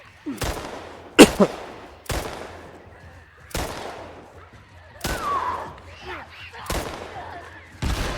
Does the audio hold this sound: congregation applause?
no